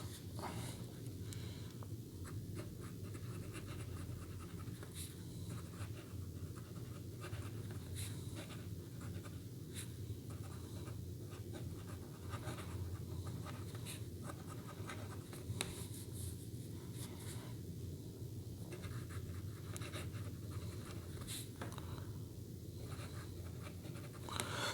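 A locally made ebonite fountain pen with a steel nib scratching softly across notepad paper, a faint, continuous scritching with small strokes and pauses, close and quiet.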